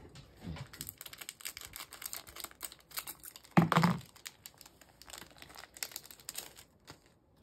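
Close-up crinkling and cutting of a mailed package of cards with scissors, with a louder burst of snipping and rustling in the middle, amid scattered clicks and handling noises.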